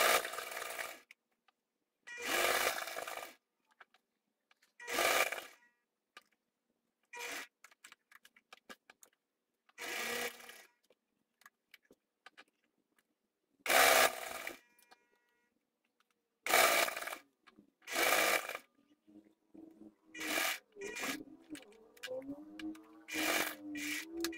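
A sewing machine runs stitches along a fabric hem border in short bursts of about a second each, separated by quiet pauses, with no one talking.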